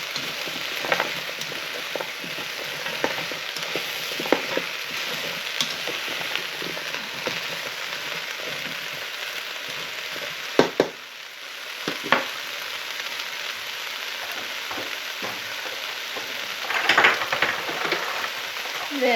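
Beef burgundy ingredients sizzle and fry steadily in a hot pan, with occasional scraping stirs breaking through the continuous close crackle.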